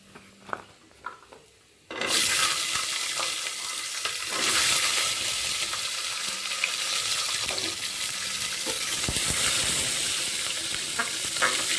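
Curry leaves and shallots drop into hot oil, and after a quiet start there is a sudden loud burst of sizzling that settles into a steady close crackle.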